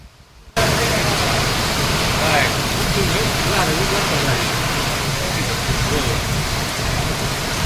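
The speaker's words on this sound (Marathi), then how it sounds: "अरे कसलं पाऊस म्हणाली" Heavy unseasonal rain pouring in Osmanabad (Dharashiv), a loud continuous hiss that starts abruptly and holds steady, with a voice speaking faintly underneath.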